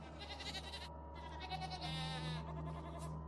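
A goat bleats repeatedly in wavering, drawn-out calls over a steady low hum, used as a sound effect within a narrated Cebuano-Filipino horror story.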